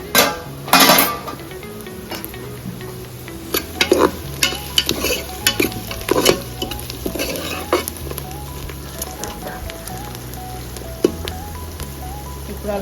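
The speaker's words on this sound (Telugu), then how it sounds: "ఆనియన్స్ ఫ్రై అయిందండి." Onions sizzle and fry in a pan while being stirred for talakaya kura, with repeated scraping strokes and clinks of a spoon against the pan, heard close up with no talking.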